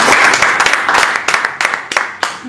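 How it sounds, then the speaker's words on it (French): An audience at a press conference in Paris applauds, a close, busy burst of clapping with sharp individual claps standing out as it thins. "Sur vos acclamations, s'il vous plaît."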